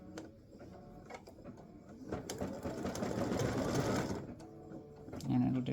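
A computerised embroidery machine stitches the small appliqué lines on a Christmas gnome girl design, a steady rapid mechanical chatter that swells louder through the middle, with a voice speaking briefly around it.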